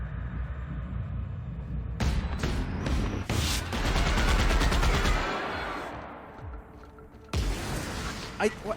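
Rapid automatic gunfire from a weapon in The Outer Worlds, loud bursts of shots with booming reports and a pause before a final volley, with someone talking over parts of it.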